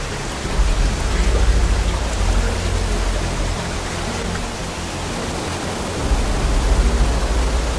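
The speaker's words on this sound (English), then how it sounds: "it sounds like there's a waterfall." Steady rushing water roars without a break, like a waterfall somewhere in a Hawaiian jungle, loud and broadband throughout. The low rumble swells near the start and again toward the end, and no voices are heard.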